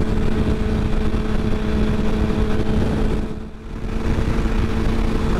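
A big, lowered motorcycle cruises steadily down the road, its engine droning at a constant level with wind rush, dipping briefly midway before resuming.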